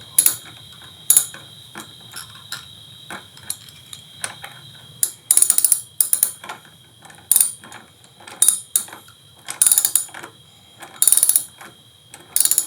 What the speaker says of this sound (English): Then we can use our tool. This using a 10mm socket.